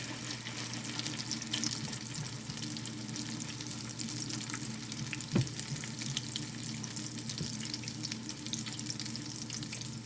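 Salmon patties fry in a pan with a steady, dense sizzle and crackle of bubbling oil that runs for the whole stretch, close and even, with one brief sharper tap midway and no talking.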